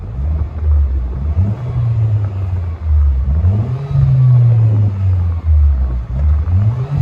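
Inside a 2010 Hyundai Genesis Coupe 2.0L turbo with dual straight-pipe exhaust, a loud, close rumbling drone swells and falls through several revs and gear changes over about seven seconds, with no one talking.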